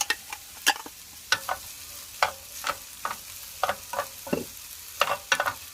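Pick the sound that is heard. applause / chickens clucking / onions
onions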